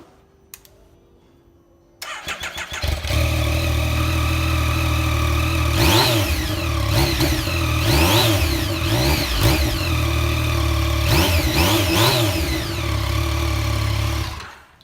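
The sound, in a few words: Yamaha motorcycle engine starting and idling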